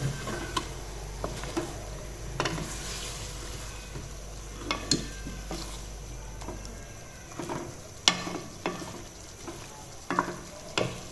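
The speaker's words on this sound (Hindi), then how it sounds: "सारी चीज़ों को, सारे मसालों को अच्छे से मिक्स करेंगे हम।" Desi chicken karahi with spices stirred in a sizzling pan: a steady frying hiss beneath repeated scraping and clinking of the spoon against the pan, close and fairly loud.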